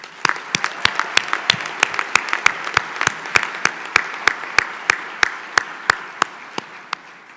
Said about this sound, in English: I ask that you join me once again in giving them another round of applause